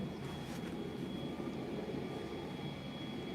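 A helicopter flies overhead above a garden, heard as a faint, steady, distant rotor and engine drone that continues evenly throughout with no talking.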